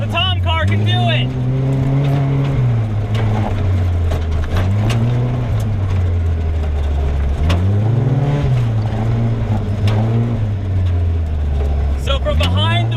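A Tomcar TX 4x4 UTV, a military-grade off-road vehicle, is driven hard over rough terrain. Its engine is loud and close, revving up and dropping back in repeated surges.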